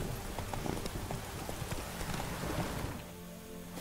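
Horse hooves clip-clop steadily in Witcher 3, a rhythmic run of close, even hoofbeats over game ambience that thins out and quiets near the end.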